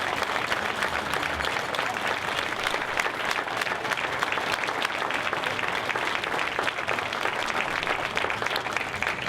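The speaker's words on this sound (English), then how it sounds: "Let's give them all a great round of applause." A dinner crowd applauds military veterans, sustained dense clapping at a steady high level filling the room for several seconds without a pause.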